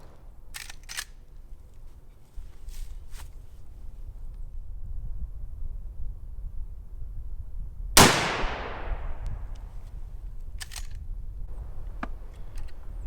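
One loud, sharp rifle shot from a Henry lever action rifle, fired outdoors and followed by a fading echo, with faint clicks and mechanical handling noises before and after.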